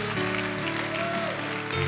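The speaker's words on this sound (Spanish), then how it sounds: "Denle un aplauso al Señor Jesucristo" A church congregation applauds in worship, a steady wash of clapping blended with music playing loudly alongside it.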